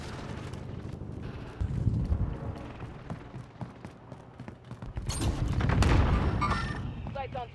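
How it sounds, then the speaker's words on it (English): Video game battle with gunfire and RPG shots: scattered shots and rumbling bursts, then a louder cluster of blasts toward the end with a sharp whoosh and crack, set against a busy battlefield background. "He's shooting. Hey, shooting RPGs through that window."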